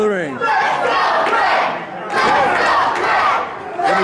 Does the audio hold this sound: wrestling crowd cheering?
yes